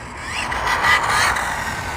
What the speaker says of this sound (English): So driving feel of this real quick.